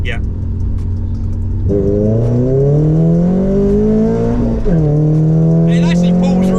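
A Renault Clio 172 at full throttle, its engine note climbing steadily in pitch, dropping briefly at a gear change, then rising again. Loud and close inside the cabin, with occasional speech over it.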